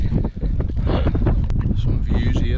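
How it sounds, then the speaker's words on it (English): Strong, cold wind gusting across a Lake District fell on a walk near Elterwater, roaring loudly against the microphone throughout, with a voice speaking under the buffeting. "That wind's picked up, man, and it's starting to get cold."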